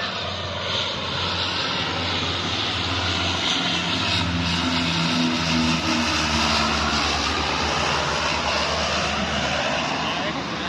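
A firefighting airplane flies low overhead to scoop sea water during a brush fire near Santa Cruz de Tenerife, its propeller engine roaring loudly and steadily as it passes, with people talking over it.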